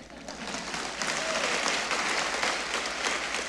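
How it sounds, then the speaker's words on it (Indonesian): A church audience claps continuously, a dense, moderately loud patter that swells after the first second and holds steady, with no voices. "Ternyata yang tepuk tangan baru 5 orang ini."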